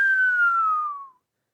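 A person whistles in astonishment, one clear, sustained whistle that slides steadily downward in pitch for about a second before fading out, heard alone and close.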